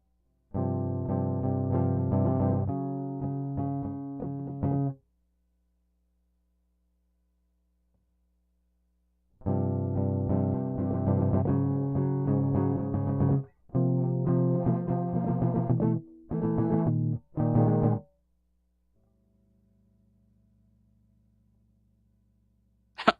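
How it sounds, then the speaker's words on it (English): Guitar played through an effects unit with distortion and chorus, loud sustained chords and picked notes in bursts separated by silence, ending in short choppy strums and a faint hum. "you can hear the pick noises"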